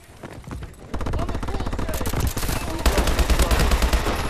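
An assault rifle in Call of Duty: Advanced Warfare fires rapid automatic bursts, loud and close, in dense rhythmic volleys that grow heavier toward the end.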